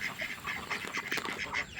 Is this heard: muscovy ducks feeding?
yes